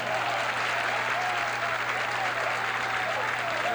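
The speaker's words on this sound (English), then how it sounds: "And now he gets the applause deserving of a man that's won 6 PBA titles" Steady, loud crowd applause fills a bowling center for pro bowler Marshall Holman at the 1978 Miller High Life Open, continuous clapping throughout with faint voices underneath.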